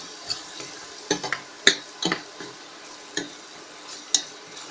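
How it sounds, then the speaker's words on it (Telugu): Garlic paste fries in a pan for aloo bath, a faint low sizzle broken by a handful of scattered scraping and clicking stirs, close and quiet with no talking. "వెల్లుల్లిపాయ పేస్ట్ వేయాలి. ఇది కూడా పచ్చివాసన పోయే వరకు వేయించాలి."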